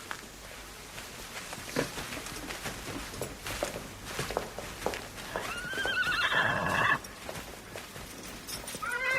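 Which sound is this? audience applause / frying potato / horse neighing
horse neighing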